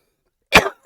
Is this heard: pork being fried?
no